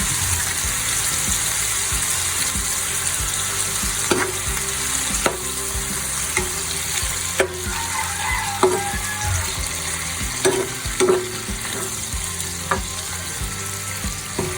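Squid for adobong pusit fries in a pan with a constant loud sizzle as vinegar is added, punctuated by repeated clinks and scrapes of a stirring utensil.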